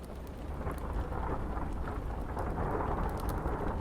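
A thunderstorm with steady rain, the patter and hiss of falling drops filling the scene with low rumbling beneath, fairly faint and continuous, with no talking.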